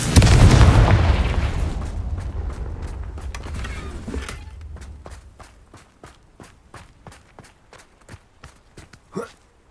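Confringo blast spell detonating against rocks in Hogwarts Legacy: one loud, close explosion with a heavy rumble that fades over several seconds, followed by a steady run of crisp footsteps.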